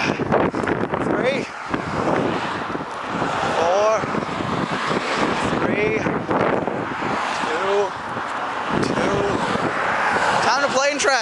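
Cars pass along a nearby road, their broadband rush rising and falling almost continuously under heavy wind buffeting on the microphone, with a voice breaking in at moments.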